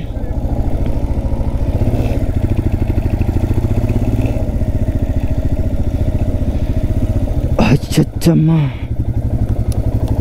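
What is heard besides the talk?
motorcycle riding to temple parking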